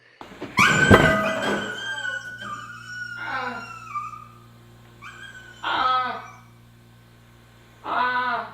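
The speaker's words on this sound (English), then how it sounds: "that dog in distress sound effect" A recorded dog-in-distress sound effect: a dog whines and wails, a loud yelping cry first, then several drawn-out mournful whimpers separated by pauses, over a low steady hum.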